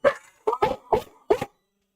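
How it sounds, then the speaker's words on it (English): Several dogs bark in short bursts, four sharp, fairly loud barks spaced about half a second apart in a quiet indoor room where acrylic painting is under way on Halloween night. "What are you guys barking about?"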